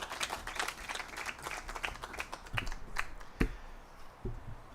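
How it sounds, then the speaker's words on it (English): A modest audience at an outdoor Shabbat evening gathering claps, a sparse burst of distinct individual claps that thins into a few isolated claps near the end. "You can clap."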